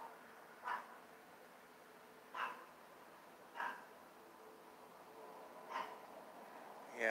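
A chihuahua barks in the distance, five short sharp barks spaced a second or two apart over a quiet background hum.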